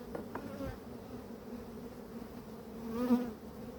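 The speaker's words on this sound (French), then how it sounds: "Oh, j'allais avaler une abeille là." Honeybees buzzing around a beekeeper caging queens at a hive, a steady droning hum with a louder pass near the end, no speech.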